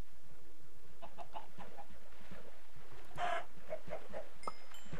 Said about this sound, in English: Chicken shouldn't be swimming in the first place.